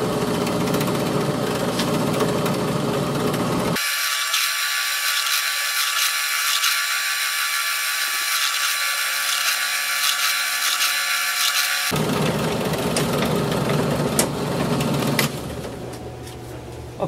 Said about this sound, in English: it looks like we got our holes nicely drilled